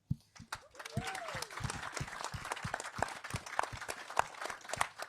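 Audience claps for the judges at an outdoor farming awards event, a scattered burst of applause with distinct individual claps, mixed with talking voices and crowd murmur throughout.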